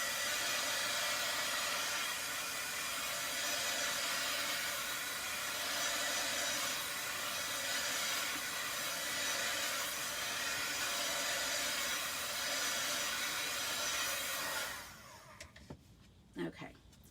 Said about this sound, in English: I am going to zap it a little bit with my heat tool